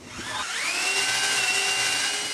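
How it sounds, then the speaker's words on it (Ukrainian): A rotary hammer drill whirs steadily as it stirs a bucket of paper, sawdust and water into briquette mix, its motor pitch rising as it spins up and then holding a loud, continuous hum. "Беремо воду. Е, заливаємо у друге відро, перемішуємо це все перфоратором."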